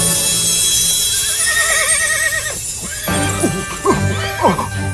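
Horses whinny loudly in a wavering, trembling call in an audiobook sound effect for white horses pulling shining carriages, followed by several sharper, shorter neighs and snorts, close and prominent over a busy background.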